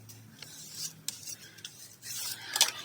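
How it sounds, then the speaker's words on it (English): Paper being burnished while making a journal gives soft, irregular rubbing and scraping strokes, close and fairly quiet, with short pauses between passes. "Burnish, burnish, burnish."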